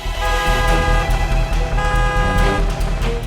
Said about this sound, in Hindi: हॉर्न देते रहो जब तक वो साइड नहीं देता